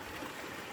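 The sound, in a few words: water flowing from village water spouts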